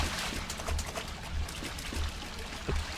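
Water pouring in through a wall, a soft continuous splashing trickle that stays faint and steady with slight surges.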